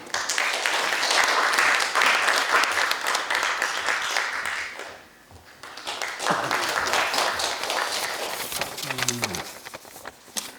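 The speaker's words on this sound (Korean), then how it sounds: "큰 박수로 맞아주십시오" Applause from the audience at an academic conference opening ceremony, dense clapping that dips briefly midway then swells again, with a few voices heard over it near the end.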